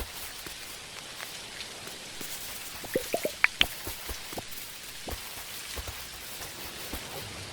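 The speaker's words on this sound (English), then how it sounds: "I'm quite surprised at how often it's raining in this season, actually." Rain in the Dinkum video game patters steadily as a soft, constant wash, with a few sharper drips and splashes scattered through it.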